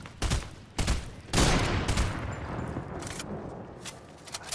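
Several sharp DMR rifle shots crack out in a video game, three or four loud reports spaced unevenly over a few seconds with lingering reverberant tails in between.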